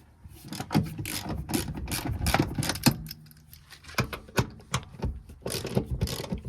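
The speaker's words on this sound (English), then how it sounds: "remove the two factory seat bolts with that" A 14mm socket on a ratchet works loose the factory seat bolts in a Toyota N60 Hilux, giving repeated close clicking, scraping and metallic rubbing in uneven bursts with brief pauses.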